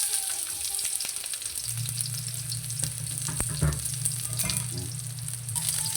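Chopped ginger and onion sizzle steadily in hot oil as the base for ginataang suso (snails in coconut milk), a loud continuous fry with occasional utensil clinks and a stronger surge midway.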